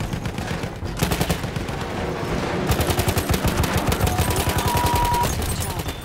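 Rapid automatic gunfire from a machine gun in the video game Battlefield 1, loud and close, with sustained bursts of rattling shots continuing through the whole stretch and a brief lull near the start.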